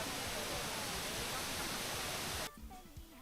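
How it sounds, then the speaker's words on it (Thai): The Kuang Si waterfall near Luang Prabang, Laos, gives off a loud, dense, continuous roar of falling water that drops abruptly to a quieter rush near the end. "มีเลยน้ำตกให้เราได้เห็นความสวยงาม ของน้ำตกตาดกวางซีที่นี่นะครับ"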